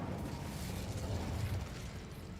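Incendio fire spell cast in a Harry Potter video game, a steady roaring, crackling flame burst with low rumble that holds loud for about two seconds before easing off, with no talking.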